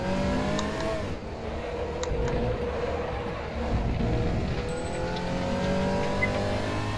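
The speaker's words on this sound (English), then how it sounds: "here goes the Simpit Porsche 911" A Porsche 911 GT3 R race car in RaceRoom drives past with a loud, continuous engine roar shifting through gears, other motors droning underneath.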